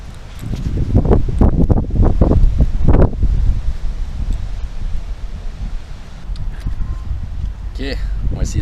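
Strong wind buffets the microphone in a steady, roaring rush, with a voice talking over it at first before the gusts carry on alone.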